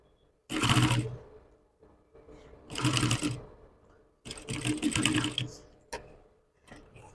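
A sewing machine stitches inside the cup of a dartless cupped corset, running in three close, loud bursts of rapid stitching with short pauses between, then a few brief taps.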